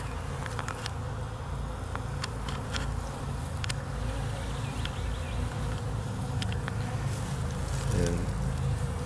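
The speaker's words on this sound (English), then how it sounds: "some bees going in and out, mostly in" A dense, steady buzzing of many honey bees close by at a hive entrance, with individual insects zipping past the microphone now and then.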